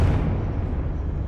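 A Confringo explosion spell goes off inside a mine in the video game Hogwarts Legacy. The blast is a deep, loud boom heavy in low rumble that hits at once and then decays through a dense crackling roar.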